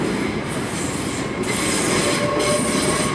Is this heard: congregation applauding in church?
no